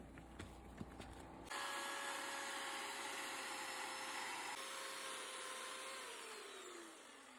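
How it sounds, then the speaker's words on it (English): A loud, steady mechanical roar of a chainsaw cutting an insulated concrete form block starts abruptly after a few faint knocks, holding high and continuous before its pitch sags toward the end. "We find using a chainsaw to be the easiest method of cutting them."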